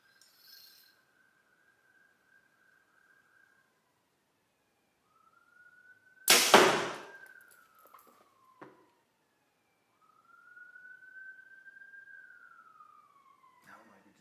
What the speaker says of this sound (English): We got ambulances going by or whatever.